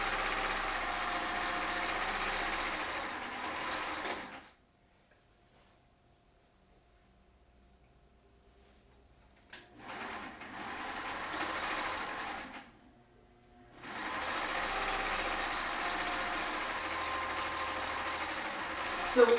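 Home sewing machine stitching the top edges of cotton duck fabric face masks, a steady mechanical whir that runs continuously, stops for several seconds with only brief faint handling noise, then resumes at full pace.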